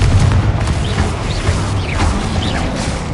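Confringo spell explosions in Hogwarts Legacy, dense booming blasts and crackling impacts packed into a loud, busy combat mix with no clear speech.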